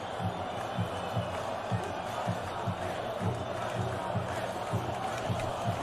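A large stadium crowd of esports fans cheers and chants throughout a CS:GO Major semifinal, a dense continuous roar with rhythmic pulses of chanting.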